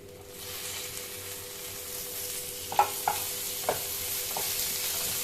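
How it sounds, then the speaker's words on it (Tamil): Lentils frying and being stirred in a pan for sundakkai (turkey berry) chutney: a steady close sizzle with a few sharp scraping clicks from the stirring, and no talking. "இது நல்லா வறுபடுத்தும்"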